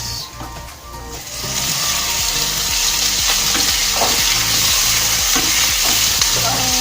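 Potatoes frying in a pan for Filipino adobo with potatoes and eggs, a steady loud sizzle throughout with repeated scraping stirs in a regular rhythm, close up and without talk.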